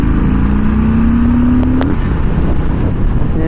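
Harley-Davidson Street Bob motorcycle engine drops to third gear, a loud steady rumble with a rising whine that cuts off sharply around the shift, then settles into a lower continuous drone.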